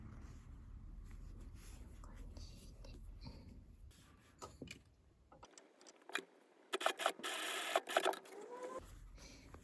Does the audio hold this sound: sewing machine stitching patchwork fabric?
yes